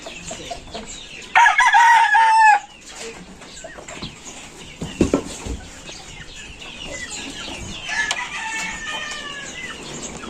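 Backyard chickens at feeding time: a loud burst of clucking calls comes up close early on, followed by scattered pecking and shuffling noises and a further run of softer clucks toward the end.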